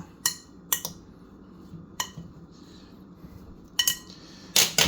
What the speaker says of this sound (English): Then I'm going to mix it and incorporate it.